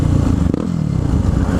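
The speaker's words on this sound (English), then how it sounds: "I got a new FMF PowerCore 4 slip-on exhaust." Supermoto motorcycle fitted with a new FMF PowerCore 4 slip-on exhaust, its engine running steadily close by with a deep, continuous rumble and a brief clattery blip midway.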